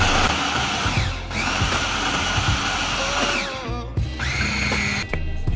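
A blender purées fish with shallots, garlic, egg, coconut milk, salt and sugar, a loud continuous motor whine that dips and rises again as the pitch shifts.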